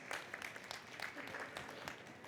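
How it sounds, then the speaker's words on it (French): A crowd at a live talk event gives faint, scattered applause, with distinct individual claps heard at a distance for a couple of seconds. "Applaudissements, s'il vous plaît."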